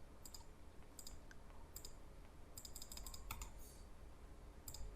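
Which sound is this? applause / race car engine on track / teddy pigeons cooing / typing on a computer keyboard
typing on a computer keyboard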